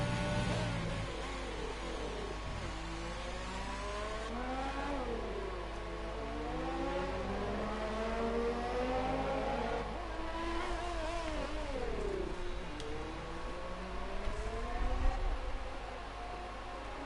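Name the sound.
Formula racing cars driving in a racing video game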